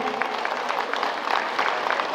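An audience at a Sahu community introduction conference in Supela, Bhilai applauds the chief guest, a dense, even wash of clapping that holds steady throughout without pause.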